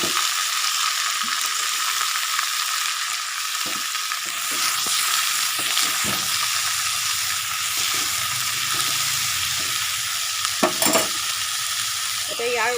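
Chopped greens with onions are stir-fried in a pan, giving a loud, continuous hissing sizzle close by, with occasional scraping stirs and clinks and no talk.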